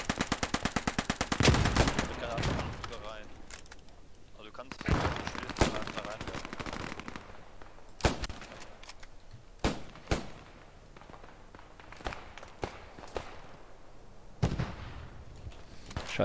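Rapid automatic gunfire and scattered single shots in the WWII shooter Post Scriptum, loud bursts early then sporadic cracks at varying distance, with players talking over radio throughout.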